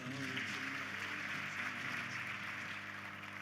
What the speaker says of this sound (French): Sous vos applaudissements à nouveau